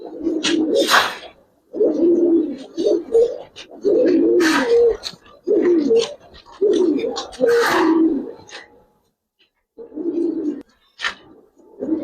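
Silver Giribaz and old-breed Giribaz pigeons with coloured pigeons coo in repeated close, loud bursts, with short pauses between phrases and no voice over them.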